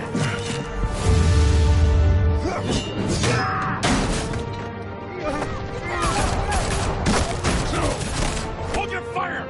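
Gunfire in the video game Batman: The Telltale Series: loud bursts of shots with crashing, smashing impacts, dense in the first few seconds and continuing in sporadic volleys over other game sound.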